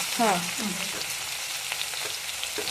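Onions fry in hot oil with cumin and mustard seeds for an okra dish, a steady close sizzle broken by brief scraping stirs, with a short voiced sound near the start.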